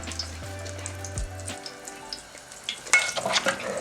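Beef hits hot oil in a pot with a soft crackling sizzle that builds into a louder, busier frying hiss toward the end, faint and close with no voices.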